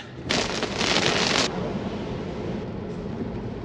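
Rain falls in the Smoky Mountains as a steady hiss, with a louder, brighter burst of downpour in the first second and a half before easing to a softer continuous patter.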